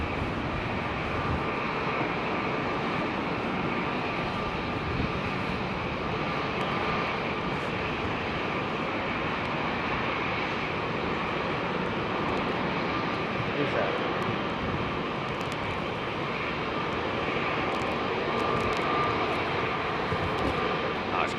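A jet airliner flying by at London Heathrow runway 27R produces a steady, dense engine roar that stays loud and even throughout, with no clear break or fade.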